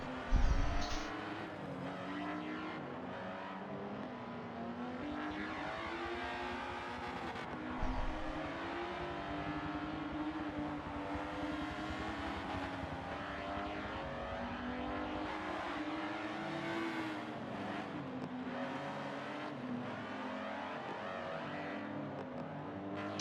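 Race cars lap the Catalunya circuit in a racing video game, a continuous layered engine drone with rising and falling revs from several nearby cars, loud and unbroken throughout.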